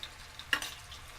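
Garlic and ginger paste being stirred into onions frying in a pan for an Indian chicken curry, with a steady sizzle and one sharp scraping stir.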